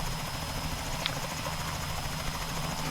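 Helicopter engine in a flight simulator game, a steady dense whirring drone with a faint rhythmic pulse that stays at an even level throughout, with no talking.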